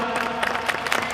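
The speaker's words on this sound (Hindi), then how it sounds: "आप लोग ताली बजा रहे हो" A crowd at a saints' assembly in Hardoi keeps up brisk applause, many hands clapping together in a continuous, fairly loud patter with small surges.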